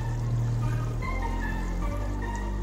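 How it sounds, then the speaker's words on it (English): Tomato puree made from two medium tomatoes pours into simmering mutton masala curry in a pan, a steady close liquid pour and trickle against a continuous background hum. "Let's add tomato puree."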